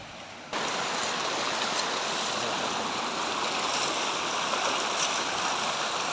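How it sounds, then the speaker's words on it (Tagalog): Continuous rushing water, a broad steady roar of fast-flowing floodwater running over a road after Typhoon Enteng, close and loud, starting abruptly after a brief quieter moment. "Naging ilog tuloy yung daanan ng sasakyan."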